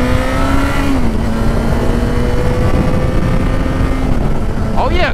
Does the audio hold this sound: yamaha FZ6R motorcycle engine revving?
yes